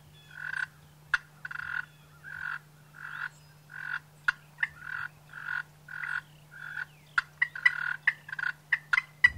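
A wild turkey gobbler calls from a pasture near pines in southeast Alabama. Loud, rhythmic bursts repeat steadily, then come quicker and more ragged toward the end, over a low steady hum, with no talking.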